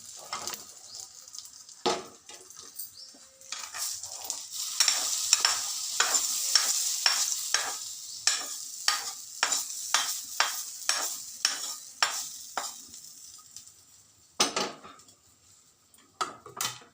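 Sesame seeds sizzle and crackle in hot tempering oil while a spoon stirs the pan in quick, repeated scraping strokes, close and fairly soft, with no talking.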